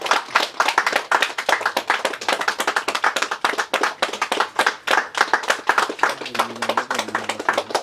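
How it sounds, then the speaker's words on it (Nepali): An audience at a Nepali community arts and literature ceremony stands and claps for honoured guests. The dense, steady applause is loud and close and continues throughout. "ताली लाग्छ।"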